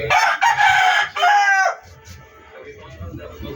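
Backyard roosters and chickens at feeding time, a rooster crowing loudly and close in two long calls, followed by quieter clucking and scratching.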